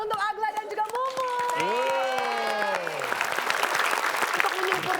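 A studio audience applauds contestants on a TV quiz show, steady clapping and crowd noise building after a host speaks over it, then continuing on its own.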